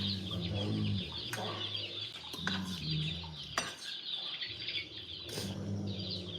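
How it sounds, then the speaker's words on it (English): Recorded baby chicks chirping in a looped recording, a steady busy mix of high peeping and clucking calls with brief flutter-like bursts, moderately loud and without talk. "Baby chicks chirping."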